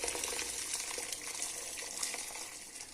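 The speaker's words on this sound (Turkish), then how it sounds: "Kaynamış suyumuzdan tekrar ekliyoruz." Boiled water pours steadily into a pot with a continuous, soft gushing splash, close and fairly quiet.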